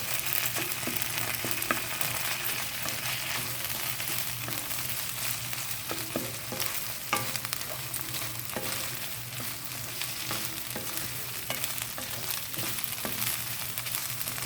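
A spoonful of ginger garlic paste sizzles in hot oil for veg biryani, a soft, steady frying hiss with faint stirring scrapes throughout.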